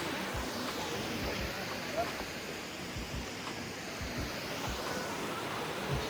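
Ayn Khor waterfall spills down from a hilltop, a steady, even roar of falling water heard alone, with no voices.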